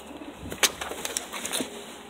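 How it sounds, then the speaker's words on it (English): A roller pigeon trapped in its kit coos in soft, short bursts outdoors, with a few sharper chirps and rustles scattered over quiet background hiss. "Looks like we got a bird stuck right here."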